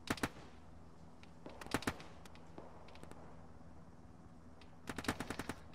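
Bursts of machine gun fire in an Arma squad combat game, a couple of quick volleys at the start and near the end with single scattered shots between, sharp and fairly close over a steady background hum.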